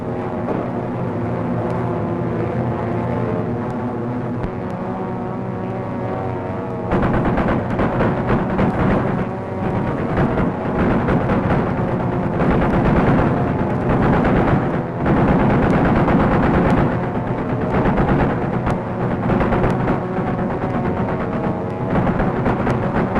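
Sustained machine-gun fire from a rear gunner's gun aboard an aircraft shooting at a towed target, a dense continuous rattle over steady engine drone that grows louder and heavier after the first few seconds.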